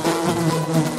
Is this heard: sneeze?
no